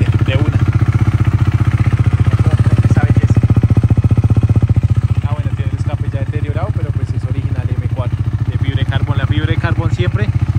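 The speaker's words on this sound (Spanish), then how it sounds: "Entonces prendemos la moto. Mira cómo prende de una." A Husqvarna 401 Svartpilen motorcycle engine runs with a steady, loud single-cylinder idle throb close by, while someone talks over it throughout.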